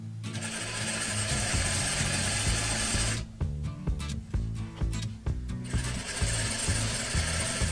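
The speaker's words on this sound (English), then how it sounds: "So I'm going to sew this edge first, and I'm sewing pretty close to the edge." A sewing machine stitches a seam about an eighth of an inch from the edge of a fabric face mask, running in steady loud bursts, then pausing briefly with stop-start stitching for a back tack before resuming.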